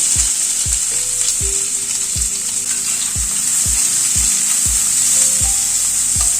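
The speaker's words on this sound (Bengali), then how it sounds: "পেঁয়াজটা দিয়ে আগে একটু হালকা করে ভেজে নেব।" Chopped onion frying in a pan, with a loud, steady bright sizzle close up and a series of regular scraping stirs against the pan roughly every half second.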